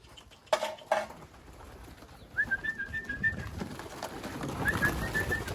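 Pigeons with young birds: two sharp clatters early, then soft, fairly close cooing calls repeat over a low rustling background, with no talk.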